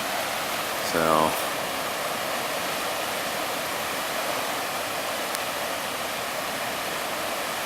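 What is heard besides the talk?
flood water stream running down a sidewalk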